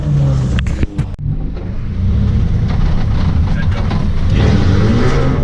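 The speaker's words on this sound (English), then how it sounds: "so thanks to my good friend Jake, he's gonna let me take this BMW Volvo creation out for a couple laps." A BMW-engined Volvo 740 race car on a track at Spirit Peaks Raceway gives a loud, close engine roar that rises under acceleration after a few sharp knocks early on, with a voice briefly heard over it.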